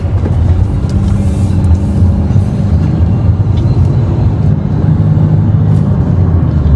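A car pulls forward after a touch of gas, giving a loud, steady close engine and road rumble that holds even throughout with faint higher rattles, no voices.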